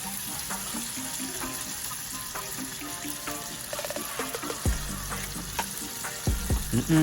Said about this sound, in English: And now I'm adding the shrimp in a pot.